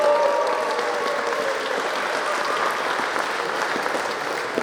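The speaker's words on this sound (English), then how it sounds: "Round of applause," Steady audience applause at an awards ceremony for a winning team, dense and continuous clapping from a crowd that holds level throughout.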